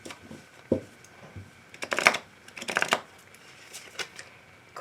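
A deck of tarot cards is shuffled for a love reading, heard close up as soft irregular riffling and flicking bursts with quiet gaps between them, and no voices.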